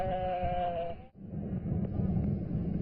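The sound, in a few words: sheep bleating near Hulun Lake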